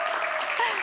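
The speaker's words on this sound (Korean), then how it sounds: "박수 쳐주세요." A studio audience on a Korean TV math show applauds in a dense, even wash of clapping, brief and moderately loud.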